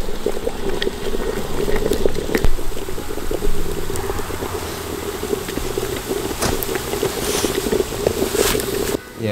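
Water gurgling and bubbling as it boils inside a singed cheap metal survival water bottle over a fire, a steady rumbling churn with occasional sharp pops and crackles throughout.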